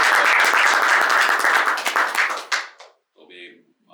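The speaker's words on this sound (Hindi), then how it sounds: "बहुत जोरदार ताली।" An open mic crowd gives a poet a loud burst of applause. The clapping is dense at first, thins into scattered claps and stops abruptly, and a voice follows.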